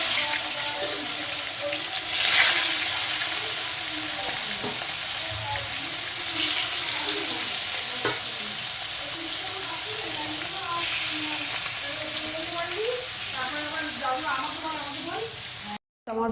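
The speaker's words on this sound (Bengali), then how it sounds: "সব মাছগুলোকে আমি এভাবে ভেজে নিচ্ছি।" Fish pieces frying in oil, a steady sizzle running the whole time with occasional clatters and stirring sounds, with quiet speech faintly in the background.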